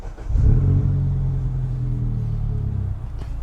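A 2008 MINI Cooper S John Cooper Works engine cranks and fires, rising into a loud, close idle rumble that settles into a steady throb, with no speech.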